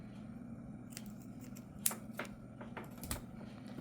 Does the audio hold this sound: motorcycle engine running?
no